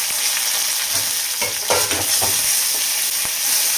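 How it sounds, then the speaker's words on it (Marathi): Garlic, curry leaves, coriander and turmeric sizzling loudly in hot oil, a dense bright crackle with a few stirring scrapes, close and continuous with no voices. "लसूण टाकते, थोडासा कढीपत्ता, थोडीशी कोथिंबीर टाकते आणि हळद"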